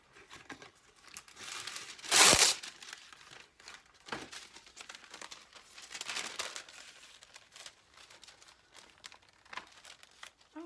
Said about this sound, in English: I need to put some parchment between them.